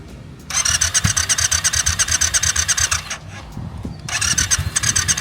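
A brand new Triumph motorcycle engine turning over with the starter, a loud, rhythmic cranking whir that pauses, then resumes as the engine tries to catch.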